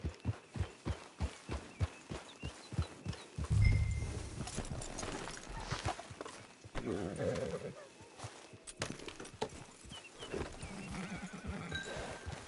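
Steady clip-clop of hooves at a regular pace in Red Dead Redemption 2, then a loud horse whinny and snorting, with game-like ambience continuing underneath.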